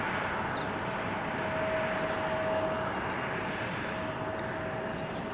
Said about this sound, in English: A321 arriving here.